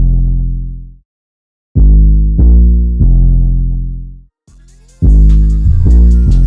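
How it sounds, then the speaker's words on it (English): Deep, booming 808 bass hits in a trap beat, several long sustained notes with pauses between them, then hi-hats and other percussion join in over the bass near the end. "Then I added this 808."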